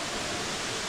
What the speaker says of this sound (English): It's a waterfall again.